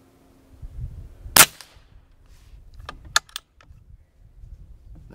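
Sharp, close cracks of a Umarex G2 .22 air rifle shooting H&N Baracuda pellets, one loud shot followed by a few lighter clicks and mechanical snaps over quiet background.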